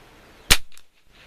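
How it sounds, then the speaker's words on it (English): A single sharp gunshot from old ammunition being test fired outdoors, loud and close, followed by a brief fading echo. "So let's see where the second shot"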